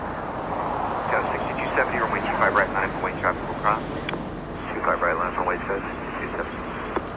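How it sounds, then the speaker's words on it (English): Allegiant airliner arriving from Grand Rapids, Michigan at Los Angeles International Airport, a distant steady engine rumble under someone talking over it throughout. "An arrival happening right now, Allegiant 1038 flying in from Grand Rapids, Michigan"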